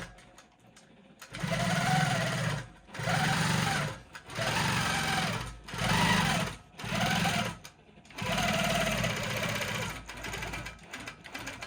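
Janome Quilt Maker Pro 20 long arm quilting machine stitching ruler work, a close rapid whirring hum in six bursts of one to two seconds separated by short pauses.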